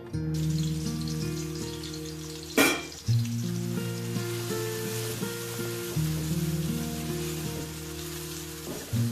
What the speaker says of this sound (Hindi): यहाँ मैंने हाफ कप ऑयल को गर्म कर लिया है। अब मैं इसमें शामिल कर दूंगी 2 बड़े साइज के प्याज, जिसे मैंने स्लाइस काट लिया है।